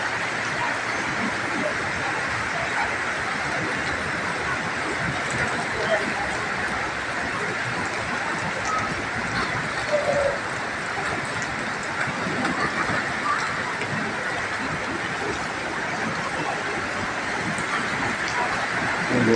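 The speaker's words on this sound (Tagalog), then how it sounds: "Lakas ng ulan, pero ang lakas, grabe." Heavy rain pours down during a flood in Iloilo, a dense, unbroken roar of rainfall that stays loud and even throughout, with no clear speech.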